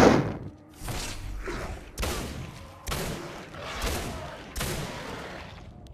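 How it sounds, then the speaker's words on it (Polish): Gunfire in the video game Singularity: a series of about five heavy, sharp shots spaced roughly a second apart, each with a booming tail that decays before the next. "trzy strzały mniej więcej."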